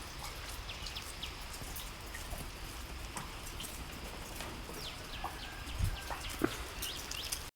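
Steady rain falls outdoors in a natural setting, a dense, continuous patter of drops hitting surfaces, with a few closer clucks or bird calls and a brief knock near the end; no one speaks.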